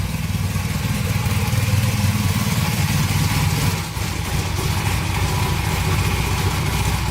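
A Honda motorcycle engine idles steadily with the choke off, a close, loud, continuous low chugging rumble that dips briefly midway and then settles back to an even beat.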